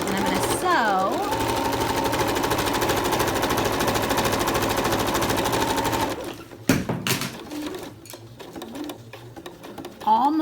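Sewing machine running steadily, back stitching a cloth face mask with a replaceable filter pocket, a continuous close mechanical whir for about six seconds before it stops, followed by faint handling sounds.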